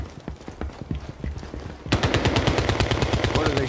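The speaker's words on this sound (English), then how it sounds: "What are they shooting at?" Rapid machine gun fire breaks out in a CrossfireX video game cinematic, starting after a quieter stretch of scattered clicks and impacts, then a loud continuous burst of fast rhythmic shots close by.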